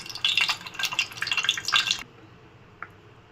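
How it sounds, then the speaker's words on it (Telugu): Eggs drop into hot ghee in a pan for an egg tawa fry, giving a bright crackling sizzle for about two seconds. The sizzle then cuts out, leaving near silence with one faint tick. "ఇప్పుడు మనం డీప్ ఫ్రై చేద్దాము"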